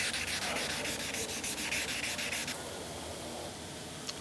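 A RIB boat hull is sanded with 1500 grit sandpaper in quick back-and-forth rubbing strokes, close and continuous, the rhythmic scrape fading into a smoother steady rub partway through.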